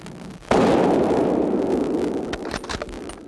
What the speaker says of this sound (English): Dean shot this nice buck in the middle of the day during the rut